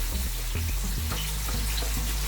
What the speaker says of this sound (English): And now in this 4 tablespoons of olive oil, I'm actually going to add in all the onions.